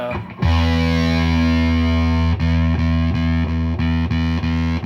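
A thick, fuzzy electric guitar chord through a Fuzz Face-style pedal prototype rings out and sustains, then is restruck several times in a steady chugging rhythm.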